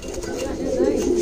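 Pigeons, a pair of red mookhi pigeons sitting on eggs in a loft, coo in low, throaty murmurs close by, steady and fairly loud through the brief moment.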